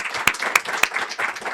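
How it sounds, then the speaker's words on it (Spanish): A television studio audience applauds in a short burst, a few sharp individual claps standing out over a lighter patter of hands, close and lively. "Aplauso fuerte."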